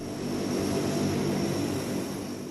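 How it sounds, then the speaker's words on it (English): Search aircraft taking off from an air force base in Perth produce a loud, steady engine roar with a broad rushing noise, holding constant close by without talk. "The planes taking off in 2-hourly intervals."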